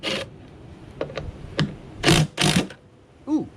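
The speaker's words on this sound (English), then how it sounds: "I'm going to loosen these bolts right here, let it drop to the ground, and tighten them again. Got an inch socket on my ratchet." A ratchet fitted with a one-inch socket loosens bolts on the skid shoes of a Craftsman 5.5HP 24-inch dual-stage snowblower, giving a few short, close mechanical clicking bursts, the middle ones loudest, spread over a few seconds.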